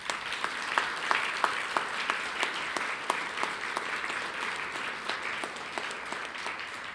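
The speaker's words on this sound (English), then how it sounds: "Can we give them a round of applause, please?" Audience applause at the 2025 Borders College graduation ceremony, a steady dense patter of many hands clapping across a hall, moderately distant, with a few sharper individual claps standing out and no speech over it.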